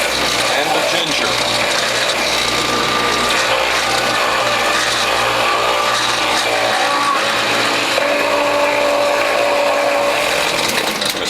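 A WHF Norwalk juicer grinds cantaloupe and ginger with a loud, continuous mechanical whirring and ratcheting drone that holds steady throughout, with a faint voice underneath.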